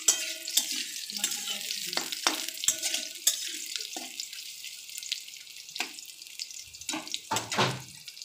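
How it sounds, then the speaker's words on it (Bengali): Potatoes fry in hot oil in a kadai, with bursts of sizzling and scraping stirs broken by short quiet gaps, heard close and fairly soft. "এবার আলুগুলো আমি ভেজে নেব।"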